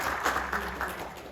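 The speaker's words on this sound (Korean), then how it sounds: "큰 박수로 다시 한번 격려해 주시기 바랍니다." Audience applause fills a conference hall at a Korean political conference on national unification, a steady wash of clapping with a few louder swells, heard at moderate distance.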